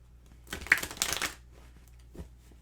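Tarot cards shuffled in a quick riffling burst of papery flutter that lasts about a second, followed by a faint tap, with quiet room tone around it.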